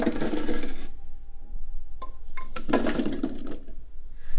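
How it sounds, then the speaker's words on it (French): Carrots and leeks tipped into a pan of fried onion, garlic and ginger, a clattering rush of vegetables hitting the metal followed by scattered knocks and scraping. "j'ai fait rissoler l'oignon, l'ail et le gingembre et je vais rajouter les carottes et les poireaux."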